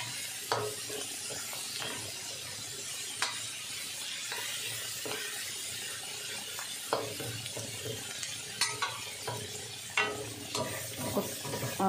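Garlic, onion and tomato are stirred and sautéed with browned meat in a pan, giving a soft continuous sizzle broken by scraping and clinking spatula strokes every second or so, with no talk.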